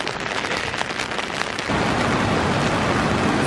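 Steady rain falls outdoors near Zelenci lake in Slovenia, a dense continuous hiss that grows louder and fuller partway through, with no voices.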